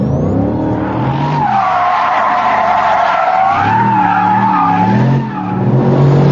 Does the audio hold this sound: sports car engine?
yes